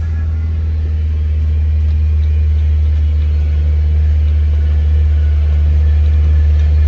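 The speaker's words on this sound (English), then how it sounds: "How you guys feeling about this old school Corolla?" An old-school Toyota Corolla with a four-speed engine idling nearby, a steady low rumbling drone with little variation throughout.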